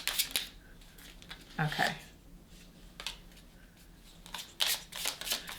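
Tarot cards being shuffled give several short bursts of riffling and flicking, close and crisp, with a few brief spoken words between them.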